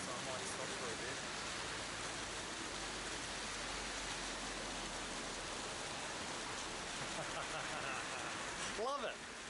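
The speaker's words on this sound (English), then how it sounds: "I've never ridden in rain like this before. It's fucking pissing it down." Dense, steady downpour hissing across the whole stretch, broadband and relentless, heard while riding a BMW R1200GSA motorcycle in the Dolomites, with a brief voice-like sweep near the end.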